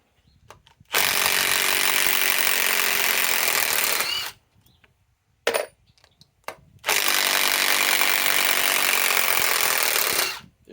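Milwaukee M18 Fuel 3/8-inch compact impact wrench on a 3 amp 21700 battery, driving in two long loud bursts of steady hammering whir, each about three seconds, separated by a short blip and pause.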